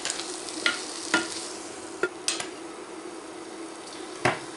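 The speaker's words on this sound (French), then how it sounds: "je vais faire cuire, c'est pareil, 2 à 3 minutes, donc les légumes" Vegetables cook in a pan under a constant soft sizzle, while several sharp spoon knocks and scrapes against the pan ring out at irregular intervals, close by and without speech.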